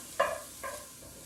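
Garlic stirred in a hot pan for a sweet potato hash, with two quick clinking stirs against the pan over a faint, steady sizzle, no voices.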